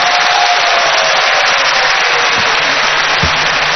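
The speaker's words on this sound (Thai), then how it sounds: "ขอเสียงปรบมือดร.กิติศักดิ์อีกสักครั้งครับ" A large crowd at a political rally applauds for Dr. Kitisak, a loud, continuous roar of clapping that stays level for the whole stretch.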